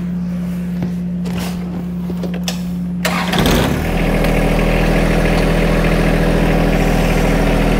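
A John Deere 120R compact tractor cranks for about three seconds, then its engine catches and settles into a steady, loud idle that continues close by without any talking.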